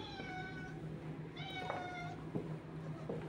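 A cat meows repeatedly at feeding time, several drawn-out, rising and falling cries close by, with one brief sharp sound between them and a low hum underneath.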